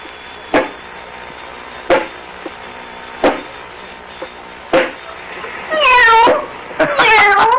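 Several sharp knocks spaced a second or so apart, then two short, rising and falling meows from a kitten near the end, in a 1950 radio drama.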